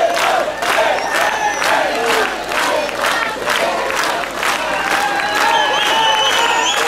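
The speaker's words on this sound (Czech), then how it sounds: "za vás potlesk." Concert audience at a folk show in Svidník applauding and cheering, loud rhythmic clapping in unison mixed with shouts and whoops, sustained throughout.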